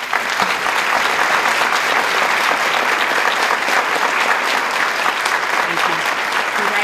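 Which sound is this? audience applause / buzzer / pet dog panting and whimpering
audience applause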